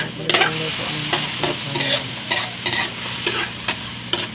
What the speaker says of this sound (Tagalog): haluin lang po ng haluin